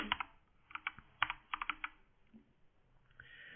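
Typing on a computer keyboard into a ServiceNow filter navigator search box: a few quick bursts of clicky keystrokes in small clusters, fairly close and moderately quiet, with no talking.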